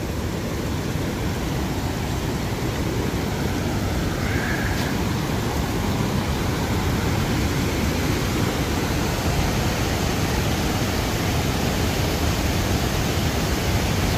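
A waterfall heard close by, a loud, steady, broadband roar of falling water that stays unbroken and even throughout.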